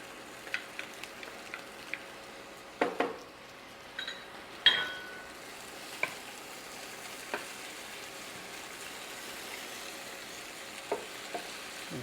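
Shallots hit a hot frying pan and sizzle softly in a steady hiss, with a few light clinks and stirring scrapes from the pan and utensil scattered throughout.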